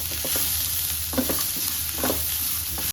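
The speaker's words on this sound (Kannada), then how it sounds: "ಇದು ಈರುಳ್ಳಿ ಚೆನ್ನಾಗಿ ಫ್ರೈ ಆಗ್ತಾ ಇದೆ." Chopped onions sizzle steadily in a hot pan with a pinch of salt while a spoon scrapes and stirs them in a few soft strokes, close and continuous without any voices.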